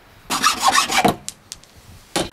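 Hand saw cutting into a powder horn, a close burst of quick rasping back-and-forth strokes, then a few faint scrapes and one last short stroke.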